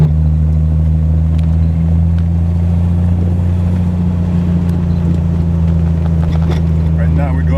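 A Triumph TR6 engine drones steadily in third gear at about 1,800 rpm and 30 mph, a low continuous rumble with strong bass harmonics, loud and close throughout, with a voice talking over it.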